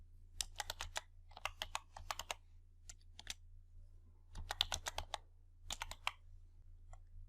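Quiet bursts of typing on a computer keyboard, short rapid runs of key clicks separated by pauses, close and clean over a low steady hum, with no talking.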